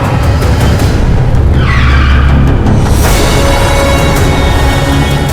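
A car brakes hard to a stop, its tyres skidding with a shrill squeal that swells and fades over a steady engine rumble, loud and close, with no talking.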